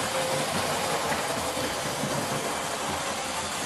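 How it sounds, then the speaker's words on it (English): A Hornby Hawksworth County 4-6-0 model train thunders through a station, its continuous dense rumble and rattle of wheels on track staying loud and close for the whole stretch. "we're going to watch it thunder through the station over here now"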